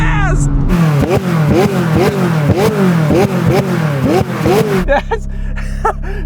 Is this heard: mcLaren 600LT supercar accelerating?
yes